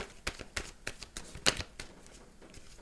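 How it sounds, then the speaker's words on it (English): Tarot cards being shuffled by hand, a series of sharp papery riffles and slaps spaced irregularly, close and moderately loud with no voice over them. "shuffling the cards before I got on screen. I wanted to do it while I was doing the horoscope."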